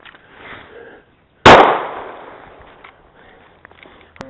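A single sharp, loud handgun shot cracks at close range on a combat shooting course with steel pepper popper targets, followed by a decaying ring and low background noise.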